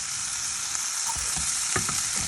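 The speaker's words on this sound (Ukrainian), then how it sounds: "Добавила вершкове масочко, сіль, морську і чорний перець. І зараз це все обсмажу." Ground beef frying in butter with salt and pepper, a steady close sizzle with crackling pops and a few stirring scrapes throughout, no voices.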